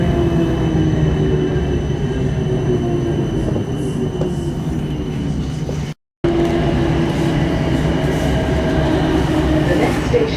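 A South Western Railway Class 455 electric train runs at speed, a steady loud rumble of wheels and traction with faint squeals and a brief dropout, no voices heard.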